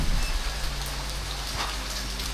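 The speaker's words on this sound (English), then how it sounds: "Check the way it's raining." Heavy rain pouring steadily on a road trip in Shimla, a dense, even hiss of drops close by, continuous and without talk.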